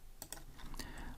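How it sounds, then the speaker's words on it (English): Keys clatter on a computer keyboard as code is typed, a few quick close taps in a short burst, fairly quiet. "let's type here val"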